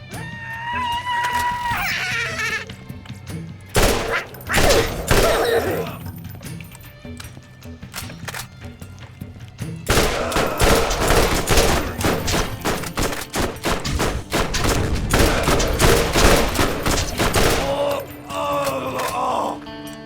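An SMG fires in the looter shooter Borderlands in Rust Commons East. Rapid bursts of loud gunfire come in dense clusters separated by short pauses, with other game sounds between them.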